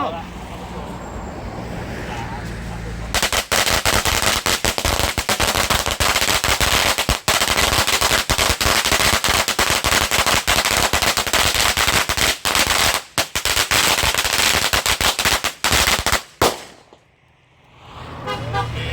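A long string of firecrackers bursts at a celebration for a new Thai shrine, a dense, loud, continuous crackle lasting about thirteen seconds before stopping abruptly, with people talking before it starts.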